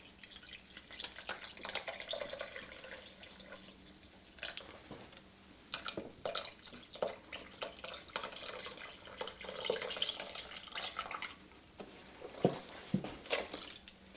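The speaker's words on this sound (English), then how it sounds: "I'll go ahead and add the rest of the chicken broth" Chicken broth pours and splashes into a pot in uneven glugs and drips, close and fairly quiet, with a few clinks along the way.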